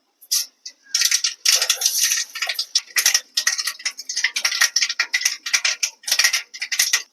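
Mustard seeds spluttering in hot coconut oil, a dense run of sharp crackling pops and ticks in irregular bursts, close and fairly loud, with no talk.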